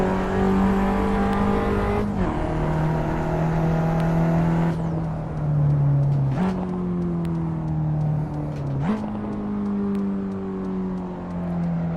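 A race car engine in Assetto Corsa holds a loud, steady drone that drops in pitch at several gear shifts, up through fourth, as it runs down the straight with no voices.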